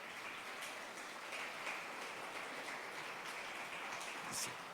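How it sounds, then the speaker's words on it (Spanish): A church congregation applauding during a service: a faint, even wash of many hands clapping at a distance, continuous and low in level with no talk. "dale un fuerte aplauso al Señor"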